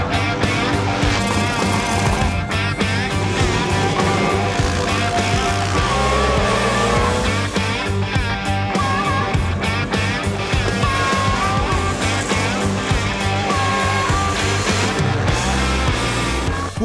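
Old vintage motorcycles race on a track, engines roaring loud and continuous with layered revving and shifting as several bikes run together at an Iron Biker event.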